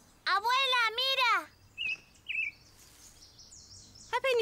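Two long warbling child-like calls, then a few short high chirps and tweets from a bird at a birdbath, sparse and fairly close in a quiet setting.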